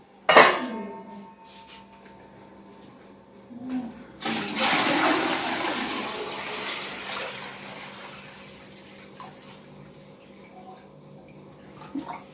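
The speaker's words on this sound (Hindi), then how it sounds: "पहले फिल्टर में डाल के आते हैं, दिखाते हैं हम लोग कैसे डालते हैं फिल्टर में" Water pours into a small, inexpensive household water filter in a home, a short clatter followed by a steady splashing gush that gradually tapers, with faint voices nearby.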